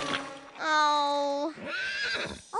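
A cartoon horse stuck in a giant mud puddle lets out a loud, drawn-out whinny that wavers and breaks into a second shaky neigh, close and clear with no talk over it.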